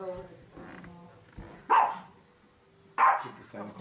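A puppy gives two short, sharp barks a second or so apart, close and clear, with people talking softly around it.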